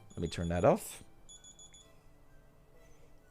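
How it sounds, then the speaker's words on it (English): A phone alarm beeps in a short repeating pattern of high tones behind a voice that talks over the start, then keeps beeping faintly for a few seconds before it is switched off. "Whoops, that's my phone alarm."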